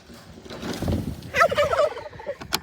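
Turkeys on a farm let out a loud, close gobble, a rapid rattling burst of warbling calls following a softer lower vocal sound, with no talking over it.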